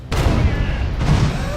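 A broadside of eleven cannons fires at once from a ship in the naval battle game Furious Seas, giving a sudden loud, dense burst of overlapping booms that rumbles on for over a second with a second swell.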